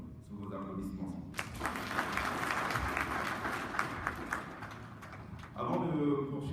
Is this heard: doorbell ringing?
no